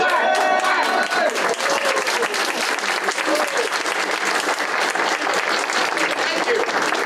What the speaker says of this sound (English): Welcome these people! Clap! Clap! Clap!